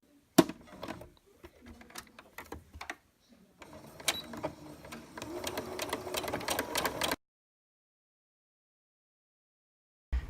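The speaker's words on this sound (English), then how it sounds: "So we'll go ahead now and sew a 1/4" seam down the long 6" side of the fabric." Babylock Rachel sewing machine stitching a 1/4 inch seam along the 6 inch side of fabric: a few short clicks and bursts, then a rapid mechanical stitching run of about three seconds that stops abruptly, close and fairly quiet.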